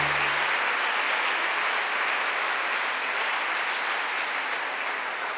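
Sustained applause from a church congregation at a Sunday service, a steady dense wash of many hands clapping together at moderate loudness throughout, with no talk over it.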